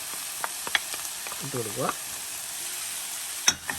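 Tomato paste goes into a hot frying pan for an Indian-style shakshuka, and a soft, steady sizzle runs under a voice. A few scraping stirs and one sharp clack come near the end.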